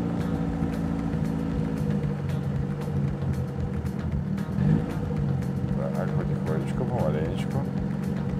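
A car rolls slowly on wheels coated with LineX protective coating, giving a steady low engine rumble and road noise, with a brief louder bump midway and faint squeaks later.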